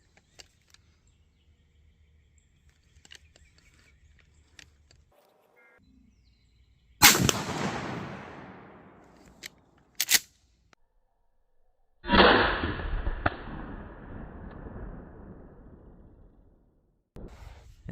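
A YTR Troy 12 gauge shotgun fires slugs outdoors: a few loud, well-spaced blasts, each with a sharp crack and a rolling echo that fades over a couple of seconds, with quiet stretches between and no talking.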